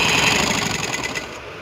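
A sewing machine runs steadily while stitching along a trouser edge, a loud, close, continuous mechanical whirr with a fast regular rattle and no pauses.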